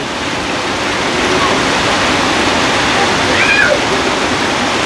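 Heavy rainwater rushes down off a roof in a loud, steady roar, unbroken throughout.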